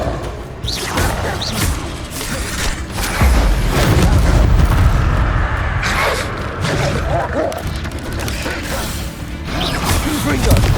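Repeated Confringo fire spells exploding in Hogwarts Legacy combat, heavy booms and crashing impacts rolling through a busy fight, with a voice speaking over parts of it.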